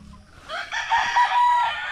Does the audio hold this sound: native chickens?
yes